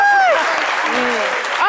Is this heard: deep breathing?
no